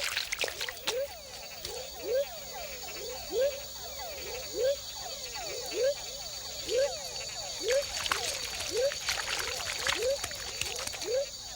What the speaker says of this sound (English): These tiny frogs mate in very shallow pools at the foot of dipteryx and other trees.